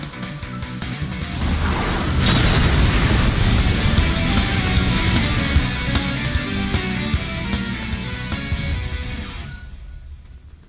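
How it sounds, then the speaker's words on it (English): A nuke blast in a Roblox game swells into a long, loud roaring rumble with crashing debris that holds for several seconds and then cuts off abruptly near the end, with no talk. "Yeah, that is a nuke"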